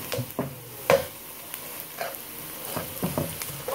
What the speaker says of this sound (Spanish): Esta cebolla la vamos a dejar que se dore un poco